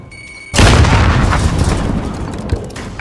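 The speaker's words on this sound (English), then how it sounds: "Grenade out!" A grenade blast in a shooter video game, one sudden loud boom followed by a long rumbling roar that slowly fades, close and dominant with no talk over it.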